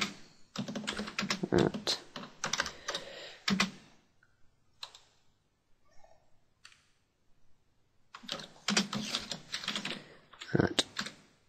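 Fingers type on a computer keyboard in quick clattering bursts with a pause in the middle, close and crisp, while someone speaks over parts of it.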